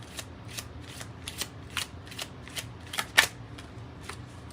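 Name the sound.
shuffling tarot cards to draw another card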